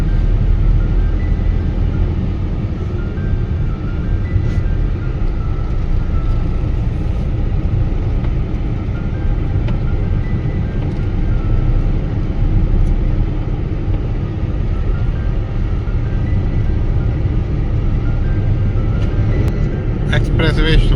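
Steady road rumble from a car driving along the Agra-Lucknow expressway in India, with continuous engine and tyre noise holding at an even, fairly loud level throughout and no talk.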